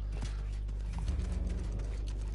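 Horse hooves clip-clop in the Realm Royale video game, a quiet run of soft rhythmic steps over a low steady background hum.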